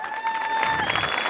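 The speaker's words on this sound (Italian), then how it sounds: "applauso." A crowd at a bridal and curvy pageant final claps as the contestants walk onto the red runway, a short burst of applause under steady tonal music, loud and close.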